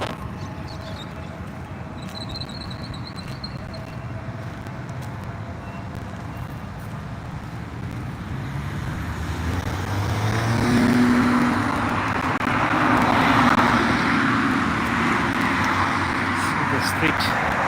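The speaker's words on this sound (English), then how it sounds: "This is the view of the Abu Dhabi street right now." Street traffic in Abu Dhabi, with cars, trucks and taxis passing as a steady broadband roar that swells louder midway, a few faint high beeps early on, and voices now and then under the noise.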